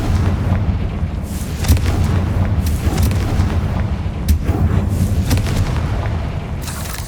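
Confringo blasting spell explosions in Hogwarts Legacy: dense, loud booming blasts and bursts layered over continuous rumbling game action, with repeated sharp impacts throughout.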